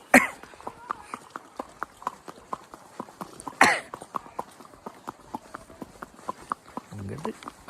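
A horse walks a resort-lined road in Pahalgam, Kashmir, its hooves clip-clopping in a steady, close rhythm, with a cough near the start and another midway, and a brief voice near the end.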